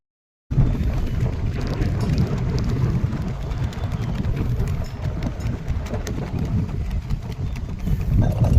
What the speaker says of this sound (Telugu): అక్కడ ఒక్కతో మీరు గాలి సౌండ్ వినండి ఎంత ఎంత గాలి వస్తుందో మీరే వినండి